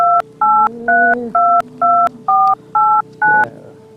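A mobile phone number being dialed on a keypad: eight crisp, evenly spaced two-tone beeps, loud and close, with faint background murmur beneath.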